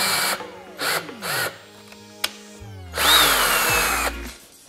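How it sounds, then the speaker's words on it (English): A power drill whirs in several short bursts drilling holes in a Hobie Pro Angler 360 fishing kayak, revving up and winding down, with a sharp click between runs and a longer final drilling. "So now I'm just gonna start at the back and drill out my holes."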